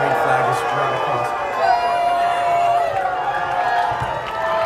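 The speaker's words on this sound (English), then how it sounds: "As fans now down there booing as the Jackson Reed flag is drawn across." Crowd of fans booing at a boys' high school soccer championship match, a broad, steady wash of voices beneath a commentator talking over it.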